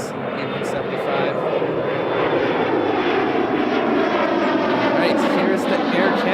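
An Air Canada airliner taxiing past the infill terminal toward runway 05 at Toronto Pearson airport, a loud, steady engine roar held at a constant level throughout.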